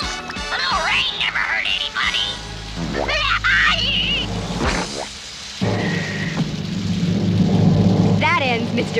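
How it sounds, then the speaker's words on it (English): Cartoon thunderstorm effect with rolling thunder and steady rain, loud throughout, mixed with sweeping musical tones and animated character voices. "Oh no, rain!"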